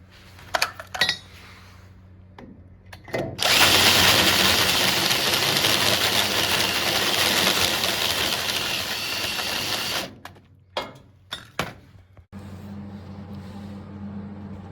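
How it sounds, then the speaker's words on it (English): A drill bores a hole through a car's front-end cross member on a Nova. It makes one loud, sustained grinding whir lasting about six seconds, with scattered metallic clinks before and after. "So we'll drill a hole right through, and we're going to sink a piece of pipe through it"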